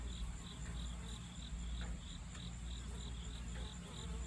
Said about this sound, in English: catch every bee coming in and out, what they're looking like, their pollen